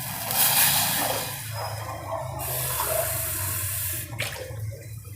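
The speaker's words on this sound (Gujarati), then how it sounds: "હવે એમાં આપણે ત્રણ ગ્લાસ પાણી નાખીશું" Water poured from a glass into a cooking pot for bajri bhaidku porridge, a steady splashing pour running several seconds with a short break and a brief final splash.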